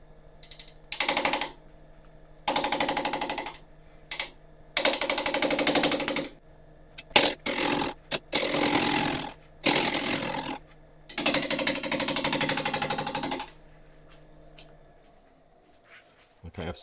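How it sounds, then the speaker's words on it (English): A yew and resin blank spins on a wood lathe at 680 RPM while a half-inch ball gouge cuts it. Loud, close bursts of harsh chattering cutting come in uneven runs separated by quiet gaps. "We're going to start turning at 680 RPM. Face shield will definitely be on, and we're going to start off with 1/2 inch ball gouge."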